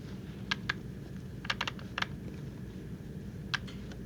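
Keystrokes on a computer keyboard, entering values during a Tetris-related session: a few scattered taps and short bursts of two or three quick presses over a low steady background hum.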